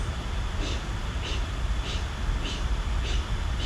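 Rhythmic, forceful breaths in and out through the mouth, about five even cycles, close and steady with a soft hissing texture.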